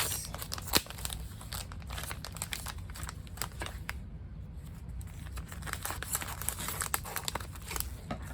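Close, continuous crinkling of a thin plastic sheet protector as it is handled while weeding heat transfer vinyl, with scattered sharper crackles over a low background hum.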